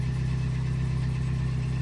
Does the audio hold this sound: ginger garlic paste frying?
no